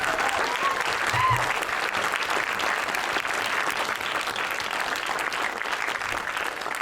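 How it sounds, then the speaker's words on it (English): Steady, dense applause from an awards-night audience cheering creators, a continuous full wash of many hands clapping at even loudness throughout. "a round of applause."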